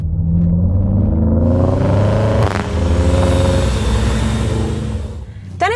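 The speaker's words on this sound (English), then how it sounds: "Smooth sound of the 40i six-cylinder petrol engine with 340 horsepower and M Sport exhaust system." A 2019 BMW X5 40i with a 340-horsepower six-cylinder petrol engine and M Sport exhaust revs up loudly, rising in pitch, then settles and rises again in a smooth, close engine note.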